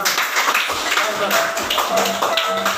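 Schoolchildren in a classroom clap their hands in quick irregular bursts, close and fairly loud, with voices talking and calling out alongside the clapping.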